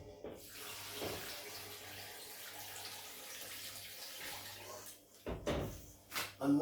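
Water pours steadily from a tap into a pot of meat bones and onion for stock for several seconds, then stops, followed by a few clunks and knocks nearby.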